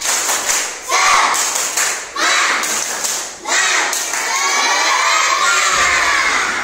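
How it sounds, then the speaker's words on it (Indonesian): Indoor classroom of schoolchildren performing a tepuk semangat cheer, a loud crowd of young voices shouting in unison with bursts of rhythmic clapping and chanting through the whole stretch, close and energetic. "Mari kita tepuk semangat."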